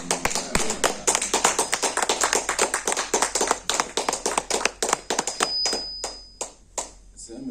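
A church congregation breaks into sustained applause, dense rapid clapping from many hands filling the room for several seconds, with voices and cheers mixed in before it thins out toward the end.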